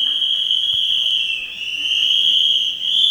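A sustained, piercing whistle from the audience at a holistic wellbeing talk holds one high pitch throughout, dipping briefly midway and wavering slightly before carrying on loud and close.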